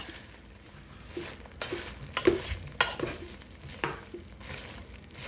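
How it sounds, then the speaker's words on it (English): Melted marshmallows being folded into popcorn with a plastic spoon, a soft sticky stirring with scattered scrapes and clicks at close range, no talking. "And you just folding that melted marshmallows all over that popcorn"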